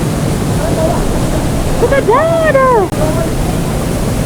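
Rushing water at Sungai Pisang waterfall roars as a loud, steady wash, and a person speaks briefly over it.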